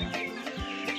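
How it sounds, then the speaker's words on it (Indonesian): A Cemani chicken clucks a few times up close, short throaty calls with faint background noise and no speech. "Pak Demiati mengambil sepasang ayam cemani untuk jenis lidah hitam"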